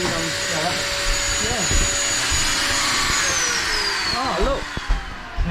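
A vacuum cleaner whines loudly and steadily during a clean-up of a boat's main cabin while it is being refitted. Voices and small knocks break in over the continuous drone.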